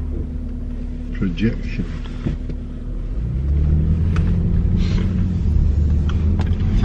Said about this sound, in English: Oh, it's a car.